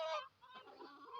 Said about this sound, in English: I've got to go find this rooster